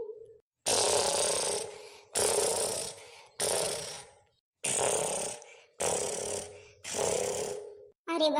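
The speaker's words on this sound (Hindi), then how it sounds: "खर्राटा तो बहुत तेज से ले रही है" Six loud, rasping cartoon snores in a steady rhythm, each a long harsh breath with short silent gaps between, close by.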